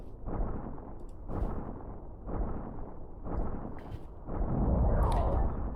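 A mecha collecting iron in the game Dyson Sphere Program bangs in a steady rhythm, with loud, booming bursts repeating about once a second and a heavier, sustained rumble near the end.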